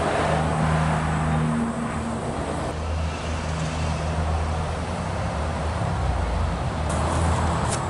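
A 15-horsepower Johnson outboard motor on a boat drones steadily close by, its low engine hum holding an even pitch with slight shifts, over a wash of wind and water noise.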